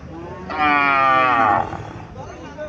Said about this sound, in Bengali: এখানে একটা গাভী দেখা যাচ্ছে।